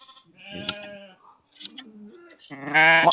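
Sheep bleat repeatedly with shepherds during wool shearing, several wavering calls of varying pitch coming close and loud, the last one longest and strongest.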